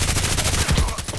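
Rapid automatic gunfire in the first-person shooter Contract Wars, fired through walls, comes as a brief loud burst of closely spaced shots lasting about a second.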